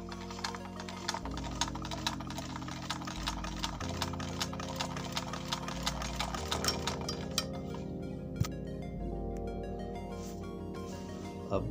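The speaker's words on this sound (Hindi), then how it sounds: "अब घुमा कर एक सिलाई हो आपको लगा कर दिखाता हूँ" A household sewing machine, just repaired after a stitch fault, runs steadily with a fast, even mechanical rattle of needle strokes, close and fairly loud, pausing and restarting briefly with no talking over it.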